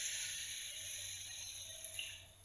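Water pours steadily into a pan of cod fish curry with a continuous bright hissing rush, close and fairly even, trailing off slightly at the end; no voices.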